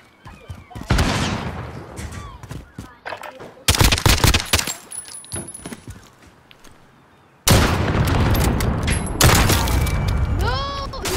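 Semi-automatic marksman rifle fire in a first-person shooter game, loud bursts of gunshots in clusters with brief pauses, mixed with game explosions and voices talking over the action.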